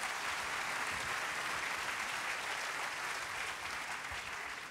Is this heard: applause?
yes